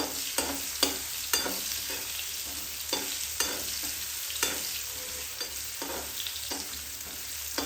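Thin radish pieces with asafoetida cook in hot oil on low heat, a steady frying sizzle broken by regular stirring strokes roughly every half second, close and with no talking.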